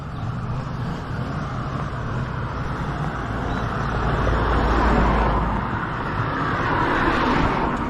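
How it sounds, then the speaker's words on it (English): Road traffic near a coastal path in Hayle, Cornwall, rumbles loudly and continuously, with a vehicle swelling past near the middle and another approaching at the end. "Traffic's getting a little bit more busier."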